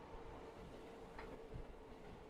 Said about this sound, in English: A working train?